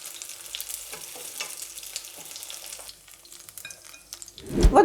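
Lazy cabbage rolls with chicken breast fry in a pan, giving a soft, continuous sizzle with light stirring and scraping, and a louder clatter right at the end.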